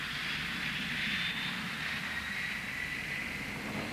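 An aluminium aeroplane flies past with a steady, broad roar of engine and air noise that holds at an even level throughout, with no voices.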